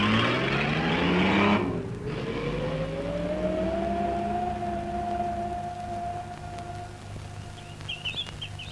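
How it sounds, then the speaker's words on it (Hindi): A car pulling away in an old Raj Kapoor film scene, its engine tone rising steadily as it drives off, fairly loud and alone, fading gradually toward the end. "चलो ड्राइवर, गाड़ी चलाओ।"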